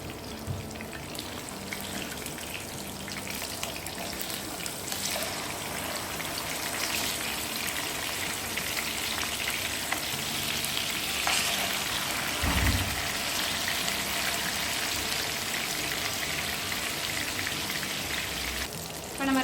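Green masala fish fry cooking in a pan gives a steady, hissing, crackling sizzle, moderately loud and continuous, with small pops and no voices.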